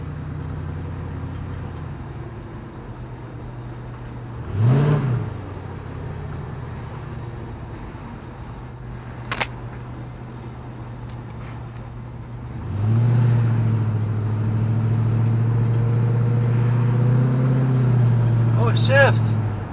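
An LS-swapped Chevy Nova engine runs and drives, a low steady drone with a rev swell near five seconds, then a louder sustained pull from about thirteen seconds on, with voices talking over it.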